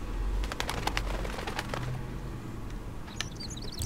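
A bird flaps its wings in a run of rapid flutters within the Life is Strange video game, heard faintly and close over a low ambient game background, with no talking.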